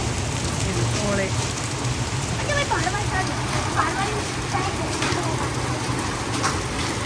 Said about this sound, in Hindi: कोई कोई तो मोटे मोटे आ रहे हैं बिल्कुल, और कोई कोई बारीक है।